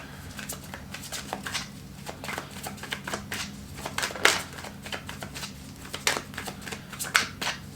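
Tarot cards are shuffled in a quick, repeated riffle, a close, crisp flurry of papery slaps and flutters that keeps going without a break and with no talking.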